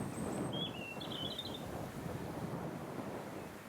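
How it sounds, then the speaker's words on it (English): Wind gusting outdoors along a countryside trail in Rutland, a steady low rumbling roar buffeting the microphone throughout, with faint bird calls briefly above it early on. "Wind's picking up."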